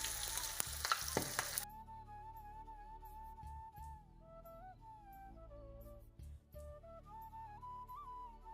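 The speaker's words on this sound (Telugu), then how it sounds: "చూడండి, ఇట్లా డీప్ ఫ్రై చేసుకోవాలి." Pieces of homemade fried chicken deep fry in hot oil, a loud burst of crackling sizzle for a moment before music takes over.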